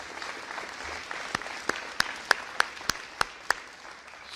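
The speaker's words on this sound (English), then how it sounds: "Please give everyone that I just mentioned a round of applause." Audience applause at a gubernatorial press conference on school report cards, a soft, fairly distant patter of clapping with several sharper individual claps standing out near the end.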